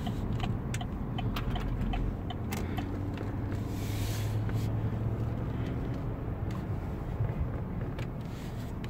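A car drives along a road on a Sunday errand, a steady engine and road rumble heard from inside, with light rattles and jingling throughout.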